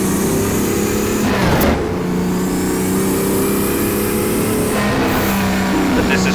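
A BMW M1 race car in the rFactor racing game roars at high revs, its engine note climbing and dropping through gear changes as it drives a circuit, loud and continuous.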